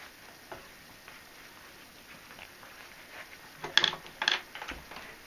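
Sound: cutting metal screen mesh

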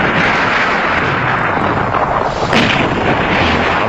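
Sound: gunfire in a war film battle

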